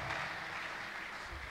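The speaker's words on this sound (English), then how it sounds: "Clap unto him, appreciate him." Congregation clapping during a Tuesday miracle church service, a dense, steady patter of many hands held at moderate loudness throughout, with no voices standing out.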